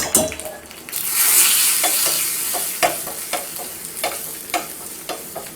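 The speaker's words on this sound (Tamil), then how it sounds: "இதெல்லாம் நல்லா தாளிச்சு விட்டாச்சு." Curry leaves, dried red chillies and garlic hiss and crackle in hot oil while being tempered, a steady close sizzle broken by scattered sharp pops and stirring clinks, no voices.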